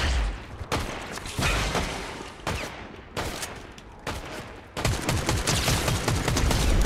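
Bursts of rapid gunfire in Fortnite Battle Royale, loud and close, in several volleys separated by brief pauses, ending in a sustained stretch of shooting.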